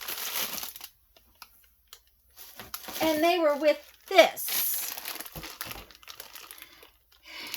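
A whole stack of paper bingo cards being handled, giving bursts of dry crinkling and rustling close by, with someone talking over parts of it.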